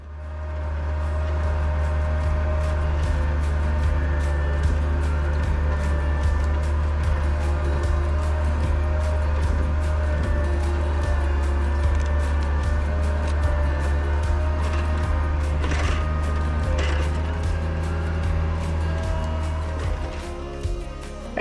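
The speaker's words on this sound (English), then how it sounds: "clearly this skid steer can handle this job too" A Bobcat skid steer clears snow from trails, its engine holding a steady low droning rumble close by for the full length, with faint clanks and knocks scattered over the top.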